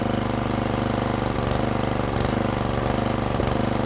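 A rototiller engine runs steadily at half choke, a loud, close, rough small-engine chug with a fast even firing rhythm and slight variations in pitch, and no voices.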